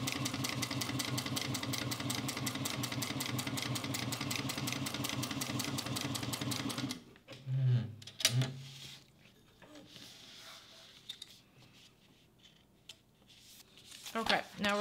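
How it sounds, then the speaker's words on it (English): A Juki 1541s sewing machine top stitching folded canvas runs with a fast, steady mechanical whir and needle rhythm for several seconds, then stops, followed by quieter handling noises and a voice speaking. "It's just a nice, easy fold in half and top stitch the folding."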